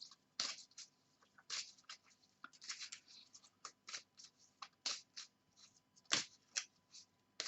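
A deck of cards is shuffled in quick, crisp riffles and slides during a tarot-style reading, close up and quiet, in irregular bursts.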